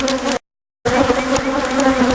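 Angry bees swarm during a bee removal, a loud dense buzzing drone close by that runs continuously apart from a brief cut to silence.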